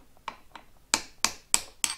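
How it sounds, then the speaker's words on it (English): A hammer taps gently at handlebar riser parts on a BMW R1250GSA motorcycle, six light metallic knocks with the last four sharper and evenly spaced, close and alone. "I'm going to try and tap these gently."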